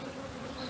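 Honey bees buzz defensively around an open hive, making a steady, dense, close drone with a faint high whine layered over it and no voices.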